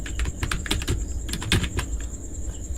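Rapid typing on a computer keyboard, a dense run of close, crisp keystrokes over a few seconds with no talking.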